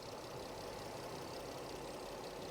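A three-cylinder car engine idles at a used-car market, a faint, smooth, even hum that runs steadily without a break and with no voices.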